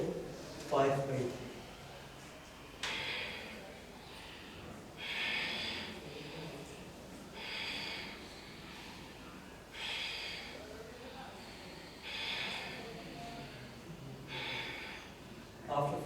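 Slow, rhythmic breathing during an Ashtanga yoga forward bend, with five or so soft, breathy inhale-exhale swells spaced a couple of seconds apart, fairly close and quiet over a faint room background.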